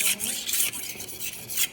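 Kitchen knife drawn across a sharpener in quick repeated rasping strokes, about six short gritty swipes close up, with no talk over them.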